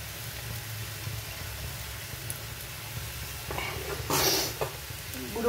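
Mixed leafy greens with crushed dried chilli being stirred in a frying pan, a steady soft sizzle underneath, with louder scraping stirs near the end.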